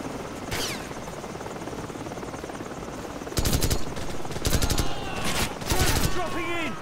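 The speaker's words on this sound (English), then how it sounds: "Heads up! Choppers inbound!" Battle sounds in the video game Call of Duty 4: Modern Warfare, with helicopters inbound: a steady rotor drone under repeated loud bursts of automatic gunfire, while soldiers shout in between.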